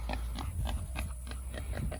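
A pig named Trudy grunts in short, repeated snorts at close range, a rough rhythmic series of oinks over a noisy outdoor background.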